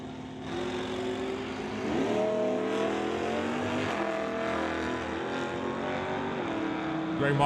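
A Ford Fairlane and an Oldsmobile Cutlass drag race at an NHRA Summit ET event, engines roaring and revving steadily at a distance while an announcer talks over the sound.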